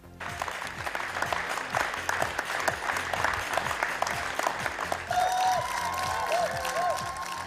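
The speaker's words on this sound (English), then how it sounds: "This is the weekly clap for carers that was taking place." Crowds across the UK clap for carers in the weekly outdoor tribute, a steady wash of many hands applauding at a distance with some cheering, and a whistle or siren-like tone rising near the end.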